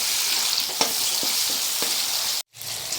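Onion and tomato with salt frying in a pan for a fish curry with flat beans and potato, a steady close sizzle with a few soft stirring knocks, briefly cut off near the end before the frying resumes.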